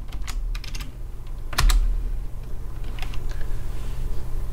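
Fast typing on a computer keyboard, close-up crisp key clicks in quick irregular bursts with a heavier thump partway through, heard alone without talk.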